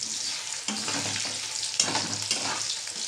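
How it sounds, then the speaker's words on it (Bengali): Four or five green chillies with spices fry in a pan while being stirred, giving a close, loud crackling sizzle broken by a few scraping strokes of the spoon, with no one speaking. "ভালো করে একটু নেড়ে নেব।"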